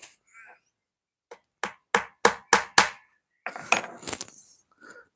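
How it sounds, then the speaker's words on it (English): Five sharp hammer strikes land in a quick, even sequence, each a bright crack, followed by some scraping and clatter. "I'm using a hammer like this"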